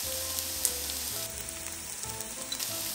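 Tilapia fries in oil in a pot with a constant, even sizzle and crackle, quiet and close, under faint background music and with no speech.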